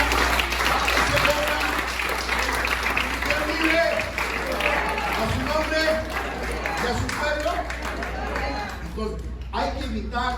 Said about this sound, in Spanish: ¿Alguien aplaude al Señor en esta mañana?